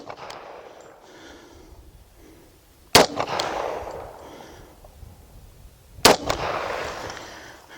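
Two sharp, loud pistol shots from an FN FNS40 in .40 S&W, about three seconds apart, each followed by a short echoing decay over quiet outdoor background.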